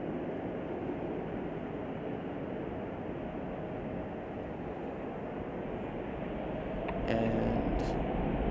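A Nippon Cargo Airlines freighter rolls for takeoff at Chicago O'Hare, a steady broad jet roar held at a distance that swells slightly louder near the end.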